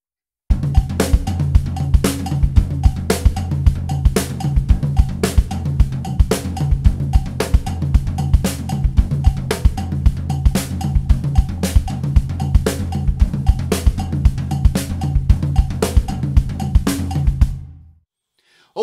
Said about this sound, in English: so I can actually play the offbeats on my cowbell with my left foot